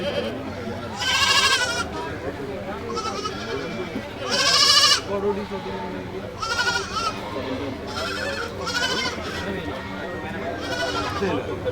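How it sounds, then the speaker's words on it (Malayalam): Several Malabari goats bleat loudly and repeatedly at close range at a wholesale goat market in Malappuram, Kerala, their cries overlapping with people talking in a busy crowd. "മൊത്തം മലബാറി ആടുകളാണ്"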